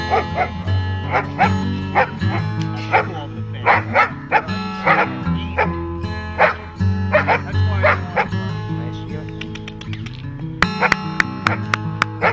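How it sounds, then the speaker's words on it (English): A slow-maturing female dog barks and yips in repeated rhythmic bursts, loud and close, with a few whimpers and no voices over it. "That's a slow maturing dog right there"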